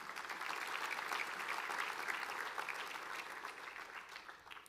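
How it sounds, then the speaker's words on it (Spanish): Church congregation applauding during a Christmas service, a dense steady wash of clapping that holds loud throughout and tapers slightly at the end. "¿Cuánto le dan un aplauso al Señor?"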